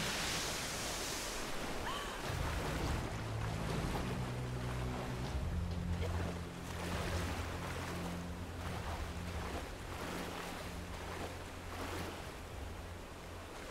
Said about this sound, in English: Not another one of these rapids.